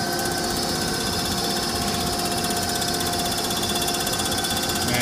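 A CNC machine with a CBN cutter surfaces the deck of an LSX engine block, producing a continuous loud mechanical whirring drone with steady tonal whine, unbroken and without talk.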